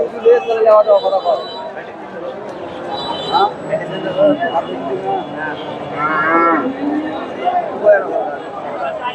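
Several cattle, Friesian bulls, moo loudly in long, drawn-out calls at a livestock market in Bogura, overlapping with nearby crowd chatter and voices in a busy outdoor setting.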